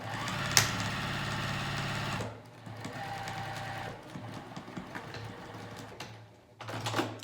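Sewing machine stitching a seam on pajama pants, a steady, fast motor hum and needle chatter that runs, pauses briefly, then resumes, close up without speech.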